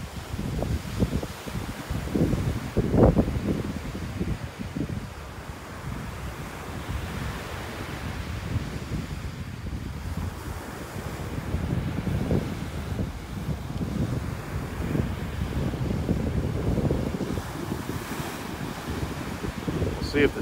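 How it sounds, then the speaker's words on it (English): Steady wind gusting on a beach in North Naples, Florida, with low rumbling surf and buffeting on the microphone throughout, swelling in places. "when it's windy like this, the wind will blow the camera right around"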